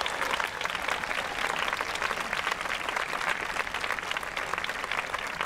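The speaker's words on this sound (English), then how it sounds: "Would you all give a rousing round of applause to my good friend Sean Spillane" An audience at a middle school graduation gives Sean Spillane a rousing round of applause before he opens the ceremony, dense steady clapping from a large crowd, moderately loud and unbroken.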